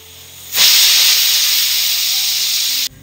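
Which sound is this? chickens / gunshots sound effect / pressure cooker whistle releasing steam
pressure cooker whistle releasing steam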